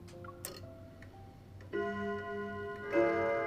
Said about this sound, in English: In the shop filled with ticking of watches, the solemn chime of the grandfather clock resounds.